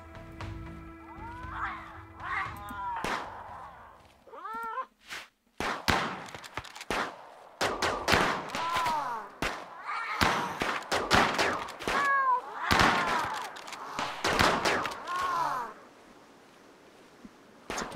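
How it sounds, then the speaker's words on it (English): Shotguns fire in a colony-building video game as a series of sharp, loud blasts in irregular clusters, mixed with other clipped game effects and brief pauses. "Let's shoot them all with"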